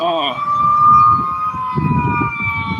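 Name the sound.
ambulance siren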